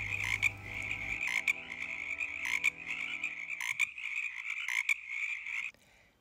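Frogs croaking in a dense, continuous chorus in the woods, a steady high trilling with louder individual calls poking through, that abruptly cuts off into near silence.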